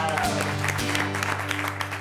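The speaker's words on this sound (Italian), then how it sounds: "Sì, facciamo un applauso." An audience at a musical game show claps in a brief burst of dense, close applause, with voices talking over the clapping.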